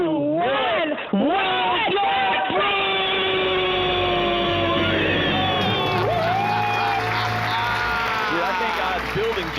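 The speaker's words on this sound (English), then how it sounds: "Let's hear a debt-free scream." A live audience screams and cheers on a countdown cue, a loud, sustained crowd roar of whoops and shouts that swells and holds for several seconds at close range.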